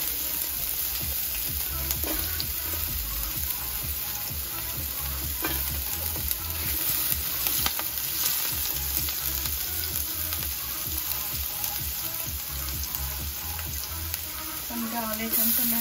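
Onions and chili peppers fry and sizzle steadily in a pan with occasional stirring scrapes, a continuous close hiss that runs under a speaking voice.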